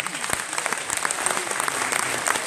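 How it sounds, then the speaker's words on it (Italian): Audience applause at an Italian public talk, with many distinct claps scattered and building into a steady patter, close by and fairly loud, with a voice faintly talking underneath. "Giuro qui che la tiravo in lungo perché aspettavo l'applauso"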